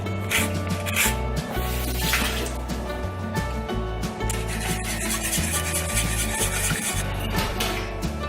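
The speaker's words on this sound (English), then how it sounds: "And then we're gonna add the zest of 1 lemon." A lemon is grated for zest, giving repeated scratchy rasping strokes against a grater, heard over steady background music.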